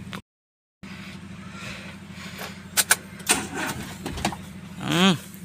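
A car engine runs at a steady low idle while the car is being manoeuvred, with a few short knocks and clicks and a brief rising whine near the end.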